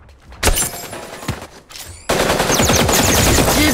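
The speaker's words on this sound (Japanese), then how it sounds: "銃声が聞こえた。" Gunfire in the Super Mecha Champions video game: a couple of loud isolated shots, then a dense rapid automatic burst that hammers on without pause to the end.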